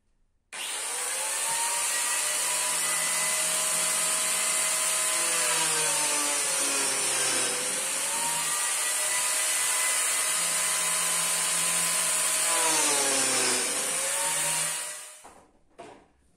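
Biscuit joiner cutting slots in coffin wood: a loud, steady motor whine with its pitch sagging briefly as the blade bites into the timber, running continuously for about fourteen seconds before spinning down.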